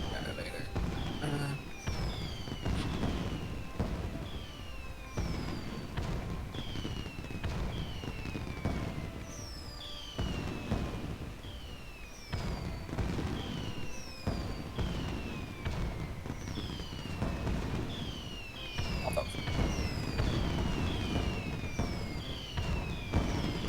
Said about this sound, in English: We're gonna do fireworks.